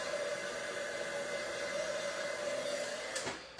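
Steady whooshing roar of a hair dryer or heat tool drying watercolor ink on acetate and window paper, loud and continuous with a slight whine, cutting off abruptly near the end.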